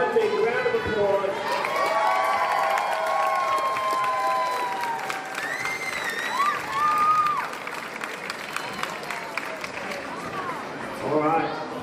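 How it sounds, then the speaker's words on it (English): Spectators clapping and cheering at a youth lead climbing competition final, crowd applause under an announcer's amplified voice, rising and fading in waves. "Ladies and gentlemen, one big round of applause"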